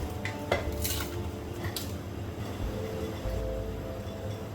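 Cardamom, cinnamon and bay leaves go into a cooking pot for Bangladeshi chicken curry, making a few light clinks and taps against the pot over a quiet, low background.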